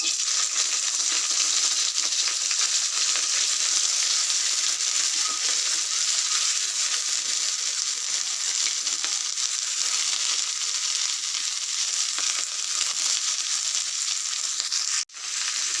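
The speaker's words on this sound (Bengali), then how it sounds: "তেলটা যখন গরম হয়ে উঠবে তখন দিয়ে দেবো এই আলু আর পটলের চোকাগুলো" Potato and pointed gourd peels fry in hot oil, giving a continuous bright sizzle that stays even throughout before a brief knock near the end.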